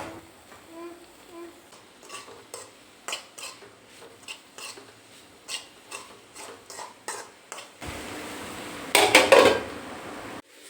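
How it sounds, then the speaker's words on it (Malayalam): Chopped brinjal with chilli powder being stirred in a pan for a Kerala upperi, heard as a regular run of light metallic clicks and scrapes of a spoon against the pan, ending in a louder burst of scraping, close up with no talking. "അതിലേക്ക് നമ്മുടെ വഴുതനങ്ങ അരിഞ്ഞത് ഇട്ട് മിക്സ് ചെയ്ത് അങ്ങനെ വഴറ്റിയെടുക്കുകയാണ് പതിവ്"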